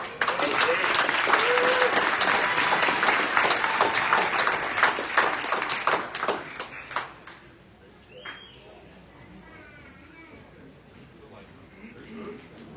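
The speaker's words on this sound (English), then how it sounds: "Let's get a round of applause for all the graduates" Audience applause at a college graduation ceremony, sustained and loud for about six seconds before quickly fading to a quiet hall with scattered movement.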